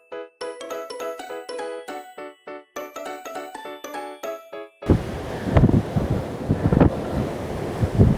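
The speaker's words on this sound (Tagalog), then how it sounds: "Pero dito sa labas, rinig na rinig mo yung hampas ng mga alon." Plucked, tinkling music plays in short phrases, then gives way to a loud, steady rush of sea waves and wind buffeting on the outdoor deck of a Royal Caribbean cruise ship leaving Shanghai.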